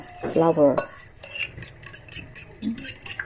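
A utensil scrapes and clinks against a bowl while flour batter is stirred for a sardine omelette, with quick, close clattering strokes and a brief voice at the start.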